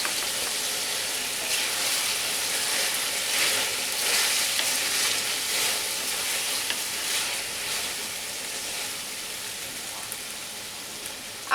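Spice paste fries and is stirred in a pan while cooking coconut jhinge (ridge gourd): a steady, close hiss of sizzling oil runs throughout, with scraping stir movements and no talk.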